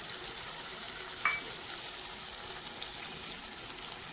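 Potatoes drop into a pan of frying spice paste, bringing a steady, soft sizzle with a faint clink as they go in.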